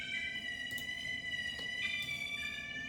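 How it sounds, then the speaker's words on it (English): A layered, EQ'd Heatwave string synth preset from Ntonic sustains a bright, steady tone with stacked harmonics and a slight shift in pitch partway through, played alone without talk. "I added a little string from Ntonic. It's the Heatwave preset."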